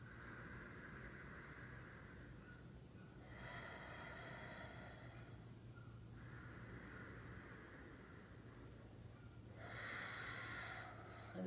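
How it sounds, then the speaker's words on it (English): Ujjayi yoga breathing through the nose, slow and faint, with long hissing breaths alternating with soft pauses in a steady rhythm, heard close in a quiet room. "And then make that same sound with our nose. Make that same sound on the inhale."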